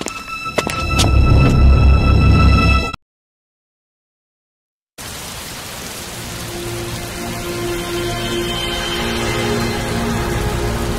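Heavy rain pours down in a flood-like downpour, a dense steady hiss of drops on surfaces that stops abruptly for two seconds of silence, then resumes slightly softer and builds gradually, with no voices.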